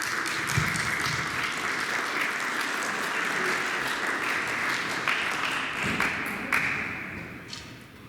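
An audience claps for a student after a wildfire presentation, a steady, loud wave of applause that fills the room with a few sharper individual claps standing out.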